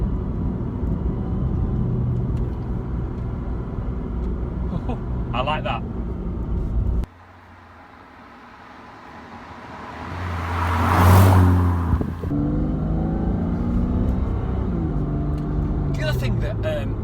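A Porsche 987 brakes hard, then its engine surges in a loud, rising rev as it accelerates away, with road and wind roar around it and someone briefly speaking.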